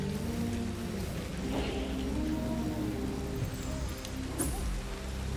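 Steady rain hiss in the video game Ancestors fills the scene, constant and moderately loud, with a soft clatter and a brief splash-like burst near the end.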